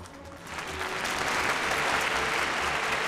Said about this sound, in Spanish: Y se escuchó un aplauso.